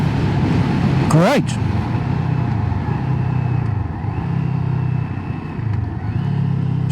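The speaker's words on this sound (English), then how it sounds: "at 60 miles an hour in 6th gear in eco mode, it's a slow wind up, look" CFMoto 700CLX motorcycle in sixth gear in eco mode at about 60 mph, steady low engine drone under heavy wind rush, with a brief sharp whine early on and a rider talking over it.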